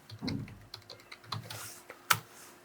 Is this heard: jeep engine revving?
no